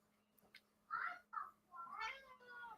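Cat meowing close by, a couple of soft short calls followed by a longer drawn-out meow over a quiet background.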